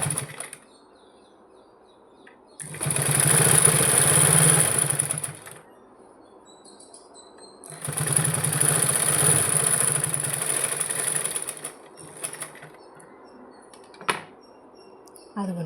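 Sewing machine stitching a folded-over seam finish on fabric, running in two sustained bursts of a few seconds each, separated by quiet pauses with small handling sounds.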